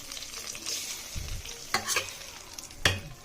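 Spices for tempering crackle and sizzle in hot oil for an Andhra-style dal, with sharp bursts of spluttering and stirring scrapes close up over a steady frying hiss.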